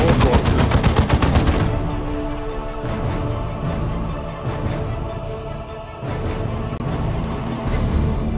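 Tactical squads trading bursts of rapid automatic gunfire in the Dawn of War 2: Chaos Rising video game, loud and dense at first, then repeated staccato volleys in rhythmic bursts.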